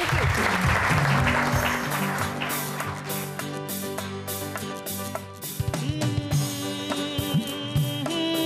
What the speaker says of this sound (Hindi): तालियां बहुत सारी, थैंक यू।